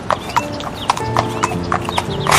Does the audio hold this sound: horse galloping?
yes